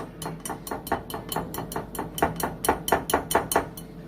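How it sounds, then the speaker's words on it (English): A spatula stirs thick hot chocolate dump cake batter in a bowl, making repeated close scraping and tapping strokes at an even pace, with no voices. "I don't think this is going to work with the whisk, so I'm going to use this spatula."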